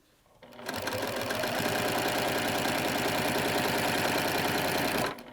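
A domestic sewing machine runs steadily for about five seconds, stitching quilt binding laid flat on a pouch project, a close, even mechanical whir with a fast rhythmic chatter that starts abruptly and stops cleanly.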